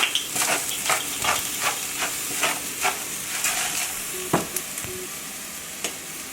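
Seasoned ground meat browns in a pan with a continuous hissing sizzle and repeated scraping taps from a spatula stirring it, heard at moderate volume with no voices.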